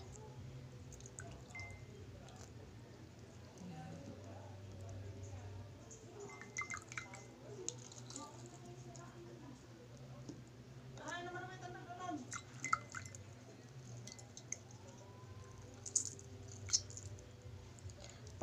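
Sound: pouring hot water into a cup

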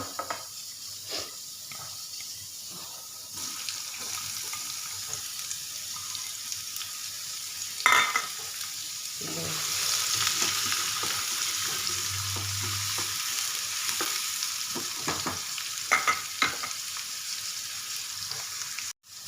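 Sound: cumin and onion frying in hot refined oil

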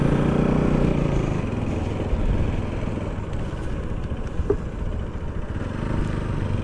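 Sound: motorcycle riding

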